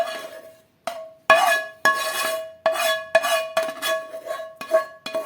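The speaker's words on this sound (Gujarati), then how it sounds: "હવે આપણે બધી વસ્તુને સારી રીતે પહેલાં મિક્સ કરી દઈએ." A spoon clinks and scrapes against a metal bowl while wheat flour dough ingredients with ghee and greens are mixed, a series of sharp ringing taps repeating irregularly, close and loud, with no talking.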